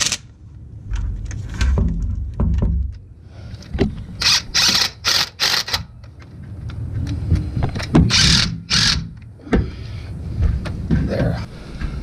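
Bolts are snugged down by hand while a water pump is reinstalled on a Crown, heard as close bursts of ratcheting clicks separated by short pauses and quieter handling noise.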